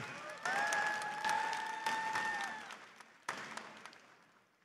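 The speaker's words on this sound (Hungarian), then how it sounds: "Nagy tapsot kérnék neki!" Applause from a cosplay show audience at the 2018 Playit Show in Debrecen, dense clapping rising sharply, then fading, with a brief second burst near the end and a sustained tonal sound running under the first half.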